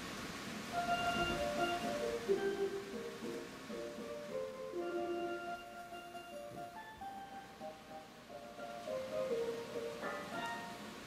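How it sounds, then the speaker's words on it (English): A sampled G soprano steel pan tone played on the P.H.I. electronic instrument rings out in a melodic run of bright, sustained notes, moderately soft over a faint background hiss. "That is the sound of a G soprano that we sampled and put on the instrument itself."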